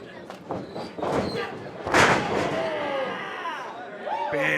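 A wrestler gets slammed onto the ring mat by a suplex at a Chaotic Wrestling event, with several heavy thuds and one big crashing impact over crowd noise, and a commentator speaking throughout.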